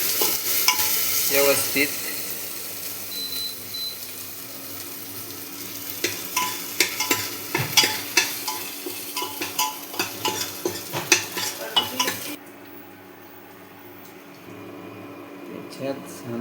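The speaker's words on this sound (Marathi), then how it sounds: "ही मिरची चांगली अशी परतून घ्यायची" Green chillies fry in a pan for kadhi while a spoon stirs them, a steady hiss with a run of rhythmic scrapes and clatters, close and clear, ending in a quieter stretch with a brief spoken word.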